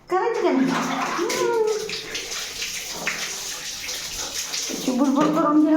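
Bath water splashes and sloshes close by during a child's bath time at home, with an adult talking and playful voices over the watery sounds.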